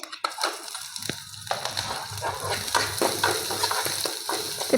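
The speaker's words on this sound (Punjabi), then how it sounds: "ਪਿਆਜ਼ ਨੂੰ ਆਪਾਂ ਹਲਕਾ ਜਿਹਾ ਭੁੰਨ ਲਾਂਗੇ" Finely chopped onion with cumin frying in refined oil in a pan on a gas stove, a close, moderate sizzle with frequent scraping and tapping from a stirring spoon, no talking.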